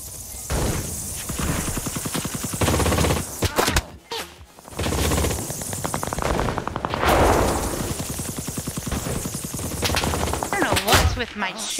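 Rapid automatic gunfire from CRSED, sustained bursts of dense, loud shots with brief pauses between them, close and continuous over several seconds.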